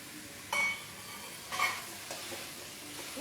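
Chopped capsicum and tomatoes frying in a pan, a quiet sizzle broken by two or three brief scraping stirs, without any speech.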